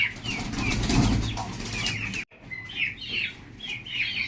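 A breeding pair of pigeons flap their wings in several quick, close bursts, with soft bird chirps scattered through the short stretch.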